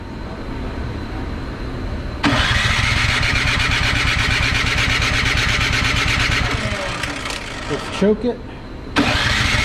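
A Craftsman snow blower engine cranks repeatedly in a long, loud rhythmic churning burst that stops without catching, followed by a second attempt starting at the end; a person speaks briefly before.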